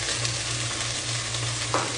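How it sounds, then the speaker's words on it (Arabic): Garlic and ginger paste fries in a pot with onions for a vegetable soup, giving a close, continuous sizzle with soft stirring scrapes. "عندي هنا شوية معجون الثوم والزنجبيل، راح أقلب شوية"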